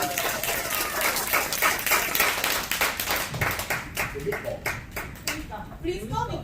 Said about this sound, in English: Let's give her a round of applause for Kumiko.